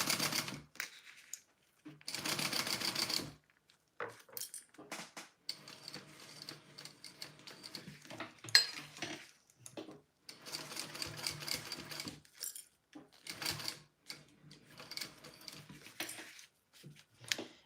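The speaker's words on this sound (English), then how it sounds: "So let's sew that in there." A sewing machine stitches a seam on a Riverwalk Sling bag with a D-ring, running in bursts of varying length separated by short pauses, close and fairly quiet with no talking.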